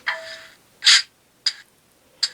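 Short bursts of hissing air from the air hoses of an HO scale Bowser GMD SD40-2 model locomotive with sound, a few separate puffs spaced apart, fairly faint and with no voices.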